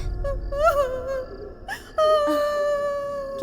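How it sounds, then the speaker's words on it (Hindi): Someone crying in the night, heard as a wavering high moaning wail with sobbing pitch glides, fairly close and alone, as in a Hindi horror thriller scene. "किसी के रोने की आवाज आ रही है लगता है"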